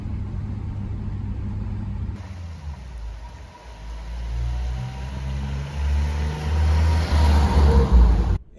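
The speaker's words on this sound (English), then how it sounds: "There's plenty of power in this engine. It's a 6-cylinder straight 6." A Vauxhall Velox with a straight-six engine drives along, its low engine rumble building steadily as it accelerates, loud and close with a hissing rise toward the end.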